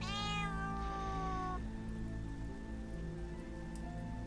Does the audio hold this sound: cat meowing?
yes